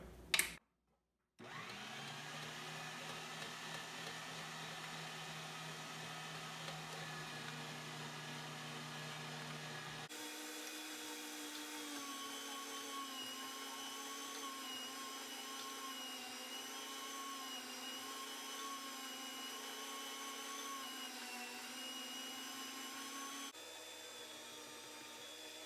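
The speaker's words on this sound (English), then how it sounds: "That's it, fully assembled, ready to start grinding." A meat grinder grinds deer meat with a steady, droning motor whir after a brief start-up click, holding an even hum that shifts in tone partway through as it works, quiet and continuous with no speech.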